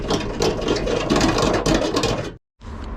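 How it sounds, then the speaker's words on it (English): A dense, gritty mechanical grinding of a reaming tool reaming holes in metal in a Ford Transit van runs steadily up close, stops briefly, then resumes. "Use my handy dandy reaming tool to ream these holes out."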